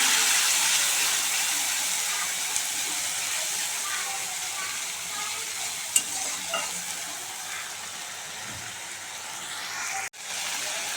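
A paste of onion, green chilli and cumin sizzles in hot oil with nigella seeds, a continuous close hiss and spatter with occasional stirring clinks and a brief clatter near the end.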